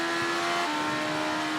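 Motorcycle engine in the Ride 3 racing game holding high revs under hard braking, a loud steady whine with a slight pitch drop midway, continuous and without voices.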